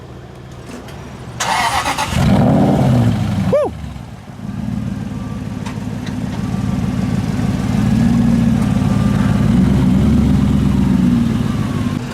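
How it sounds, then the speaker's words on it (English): A Mercedes C63 AMG, de-chromed, fires up outdoors with a sharp revving burst, then settles into a loud, steady, rumbling idle heard from outside the car, with a brief shout near the start. "Let's get a start up of it so you can hear it from the outside"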